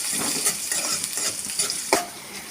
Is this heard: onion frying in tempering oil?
yes